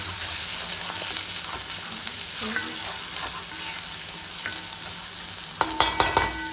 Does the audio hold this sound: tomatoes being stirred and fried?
yes